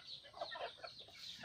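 Young hens on a Vietnamese farm clucking in short, close bursts at feeding time, several soft calls overlapping with no talk.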